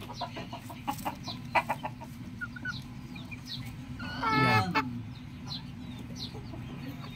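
Chickens on a small farm cluck in short, scattered bursts close by, with a brief voice and some handling noise partway through.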